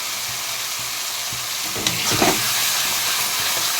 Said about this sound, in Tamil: இதை நல்லா ஃப்ரை பண்ணி முடிச்சுட்டு நான் உங்கள்கிட்ட காட்டுறேன்.